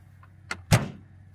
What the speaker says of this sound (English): and then we have the frame latch door.